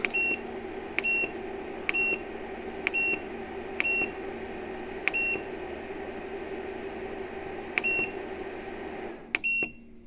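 Solar inverter, an EASUN or TTN unit, sounding a beep alarm: a string of short, clear electronic beeps at roughly one-second intervals, then a pause and two more quick beeps, over a steady low hum.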